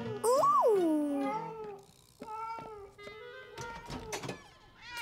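A cartoon cat meows loudly and expressively, with a long rising and falling cry followed by shorter mews and small household noises.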